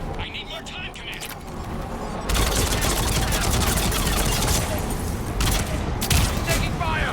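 Rapid automatic gunfire rattles through a sci-fi shooter battle against Cerberus forces, a dense continuous barrage that swells louder partway through amid explosions and shouted voices.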